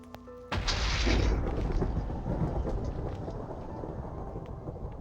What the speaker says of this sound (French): En plus, il y a de l'orage.